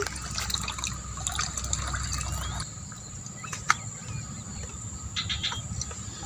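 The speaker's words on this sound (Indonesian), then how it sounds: "hasil bekas cucian tadi sama air bekas kamar mandi tadi ini. Nanti ngalirnya seperti ini." Household wastewater from laundry and a bathroom trickles out onto garden plants, a steady low gush of flowing water running continuously with faint insect chirps in the background.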